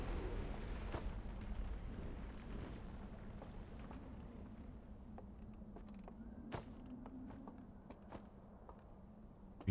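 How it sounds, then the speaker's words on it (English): A dam exploding in Outer Wilds rumbles as a low, sustained roar with scattered sharp cracks and bangs over nearly ten seconds, distant and fairly faint, with no voices. "there's the dam exploding"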